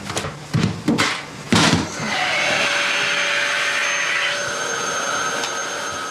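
A vacuum cleaner hoovering in a family home starts after a few knocks and bumps, then settles into a loud, steady whine that holds close and unbroken for several seconds.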